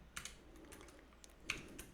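Quiet keystrokes on a computer keyboard, a few scattered clicks over two seconds with two slightly sharper taps, close but faint.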